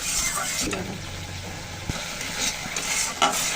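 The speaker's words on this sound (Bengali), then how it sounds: "এই জল দিয়ে কিন্তু সুন্দর করে মশলাটা কষাতে থাকবো" Spice paste frying in a pan with water added, being stirred for a Bengali rohu fish curry: a low sizzle with utensil scrapes and clinks against the pan, close by and fairly steady.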